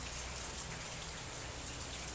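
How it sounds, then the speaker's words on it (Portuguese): Steady rain falls outside a house, a soft, even hiss of drops on surfaces that continues without a break and with no voices. "Olha que a chuva que tá na minha casa."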